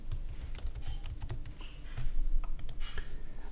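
Quick typing on a Surface Pro computer keyboard under Windows 10, a run of close, crisp key clicks in irregular bursts with a brief pause midway.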